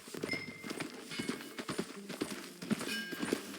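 A horse walks in Red Dead Redemption 2, its hooves clip-clopping in a steady, quick rhythm of soft, close thuds over a continuous outdoor ambience.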